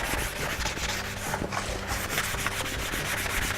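Steady scratchy rubbing of a sanding sponge against a wooden cabinet door, continuous back-and-forth strokes close up, no voices.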